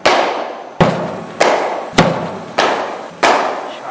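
Six sharp, evenly spaced cricket bat strikes on fast-bowled balls, each a loud close crack with a short echoing tail, repeating roughly every two-thirds of a second.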